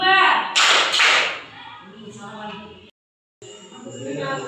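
A few sharp hand claps from a classroom group in quick succession, fairly loud and close, followed by a brief pause. Voices carry on underneath and after the claps.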